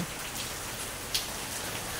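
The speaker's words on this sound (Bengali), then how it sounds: "আর বৃষ্টি কন্টিনিউ বৃষ্টি পড়ছে" The year's first rain falling steadily in Pabna after a light storm, a soft even patter of drops on surfaces, fairly quiet and continuous, with one small sharp drip standing out midway and no voices.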